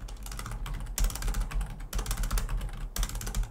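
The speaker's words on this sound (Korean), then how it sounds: "왜 이렇게 키보드가 안 써질까요?" Fingers typing on a computer keyboard: a steady, close, continuous clatter of keystrokes, with short pauses roughly every second, and no voice over it.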